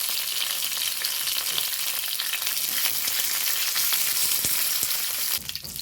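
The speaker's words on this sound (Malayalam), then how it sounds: "ഇനി ഇതേ വെളിച്ചെണ്ണ തന്നെയാണ് ഞാൻ എടുത്തത് വറുത്ത ബാക്കിയുള്ളത് അതിലേക്ക് ആദ്യം കരിവേപ്പില എണ്ണ ഇട്ട് കൊടുക്കുന്നത്" Curry leaves sizzling in leftover coconut oil for bitter gourd pachadi, giving a loud, dense, continuous hiss and crackle that is close and alone, with a brief clatter at the end.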